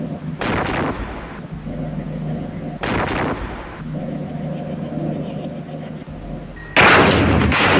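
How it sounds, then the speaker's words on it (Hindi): Loud blasts and gunfire in war footage of a tank struck and exploding into a fireball, with three heavy broadband bursts separated by rumbling combat noise and a sustained roar at the end. "टैंक में एक बहुत बड़ा ब्लास्ट होता है और टैंक आग के गोले में तब्दील हो जाता है"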